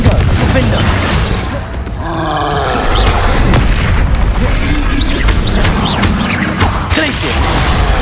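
Confringo and Glacius spells from a Hogwarts Legacy duel go off as loud, dense booming blasts and crashing impacts, layered continuously over one another with shouted voices mixed in.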